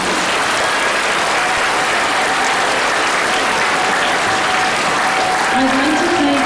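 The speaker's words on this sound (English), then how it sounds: "So let's give them a round of applause." Audience at a children's Christmas production applauding, a dense, even burst of clapping that holds loudly for several seconds.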